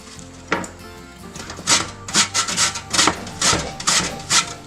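A peeled medium carrot is finely shredded for fresh tomato basil soup, giving close scraping rasps that start sparse, then come in a quick, uneven run of strokes, with no one talking.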